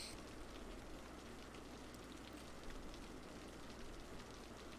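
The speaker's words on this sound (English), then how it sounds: "It's raining here." Rain falling: a faint, steady hiss of drops spread evenly with no breaks and no voices.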